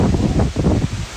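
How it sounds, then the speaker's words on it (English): Strong wind blowing during a hurricane, a broad, steady roar with gusty low rumbling and microphone buffeting throughout. "It's windy."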